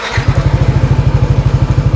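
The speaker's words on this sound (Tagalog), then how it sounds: "Ito yung pipe, ganda ng tunog eh." Yamaha Nmax 180cc scooter exhaust pipe idling up close, a loud, rapid, even low-pitched putter with regular pulsing beats and no talking.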